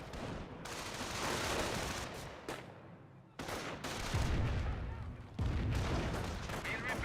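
Grenade blasts and gunfire in the World War II strategy game Company of Heroes, dense bursts of shooting and heavy booms packed close together with loud low thumps toward the end, continuous throughout.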